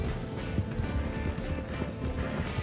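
A horse gallops in the Red Dead Online video game during a horse race, with steady dense hoofbeats running continuously throughout at moderate loudness, plus background game noise.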